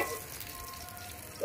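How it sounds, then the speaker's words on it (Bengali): Hilsa fish heads sizzle in hot frying oil with a steady, soft crackling hiss that stays fairly faint and even throughout, with no voices. "আমার মাছের মাথাগুলো ভাজা হয়ে গেছে লাল লাল করে"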